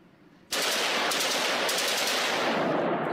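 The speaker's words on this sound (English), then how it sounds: "AK-47. This man done missed every shot." AK-47 rifle firing a sustained burst that bursts in loud after half a second of near silence and keeps going as a continuous rapid, dense stream of shots with no pauses.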